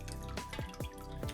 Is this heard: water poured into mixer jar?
yes